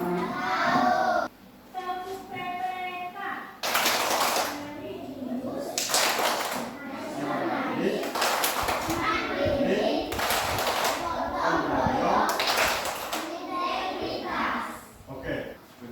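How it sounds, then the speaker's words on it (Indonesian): Schoolchildren in an Indonesian classroom perform the tepuk PPK clapping routine, sharp rhythmic bursts of group clapping in patterned sets, with children's voices chanting between and over the claps. "terima kasih anak-anak sudah melakukan tepuk PPK"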